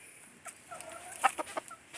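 A hen clucks softly in a few short, uneven notes on a farm, close by with quiet surroundings.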